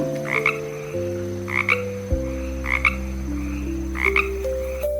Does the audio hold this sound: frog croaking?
yes